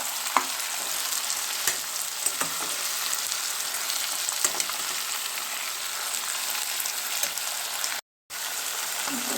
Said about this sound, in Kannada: ಎಲ್ಲ ಬದನೆಕಾಯಿನ ಹಾಕೊಂಡು ಒಂದು ಸ್ವಲ್ಪ ಹೊತ್ತು ಚೆನ್ನಾಗಿ ಹುರಿಬೇಕು ಅದನ್ನು